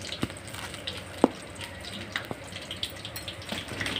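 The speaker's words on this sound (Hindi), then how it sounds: "इसे नमक के पानी में डालेंगे" Fried dahi vada dumplings for a Hyderabadi recipe are dropped into salt water, producing soft plops and splashes at irregular intervals over a faint watery background.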